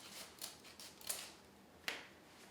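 Scissors snip through red ribbon for a Halloween wreath, several quiet, crisp cuts spaced irregularly and heard close with no talk over them.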